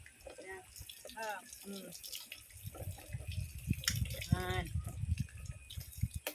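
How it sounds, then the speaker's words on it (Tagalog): Water runs and splashes into a bucket in a rural provincial home, a trickling, dripping stream that grows louder partway through while people talk over it. "Unlimited water here. In the bucket."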